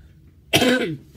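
A single close, harsh cough bursts out once and trails off quickly.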